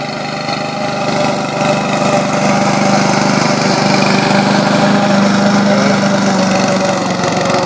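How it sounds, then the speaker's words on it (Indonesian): An engine-driven shredding machine chops grass for compost at a campus, running loudly and steadily with a droning, vibrating hum throughout. "Pengolahan rumput dilakukan dengan menggunakan mesin."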